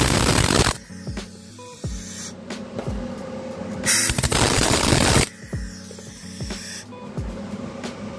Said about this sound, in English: We'll throw a little weld at it.